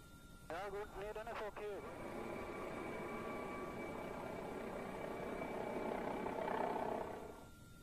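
A police helicopter flies over a restricted bomb-disposal area, its rotor drone steady and sustained, swelling slightly louder near the end before fading; a brief voice is heard at the start.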